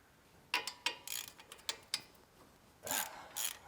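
A ratchet wrench clicks in short bursts while loosening brake line bracket bolts on a Toyota 4Runner suspension, quiet and close with pauses between strokes.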